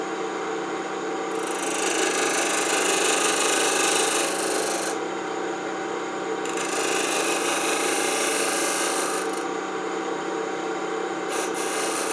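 Palo Santo wood being cut on a lathe, a loud, steady rasping and grinding of the tool against the spinning workpiece, swelling and easing in long passes with no talk.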